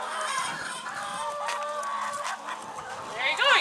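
Backyard chickens clucking around a treat toy, several overlapping clucks and squawks nearby with a louder burst of calls at the end, a person talking beneath them.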